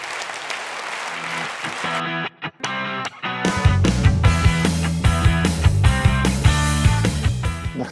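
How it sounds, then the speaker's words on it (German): An audience at an Austrian quality awards ceremony claps for an honoree, applause rising briefly before loud stage music with a pounding beat takes over. "nochmal Applaus für Kevin Pöltl"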